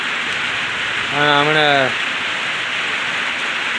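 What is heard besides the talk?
rain falling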